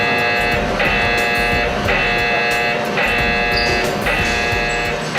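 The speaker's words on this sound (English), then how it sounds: "The alarm is being activated and you see this was the peak of the smoke detection." A ship's smoke detector alarm under test blares loudly in a steady repeating pattern of tonal pulses about once per second, with engine-room noise underneath.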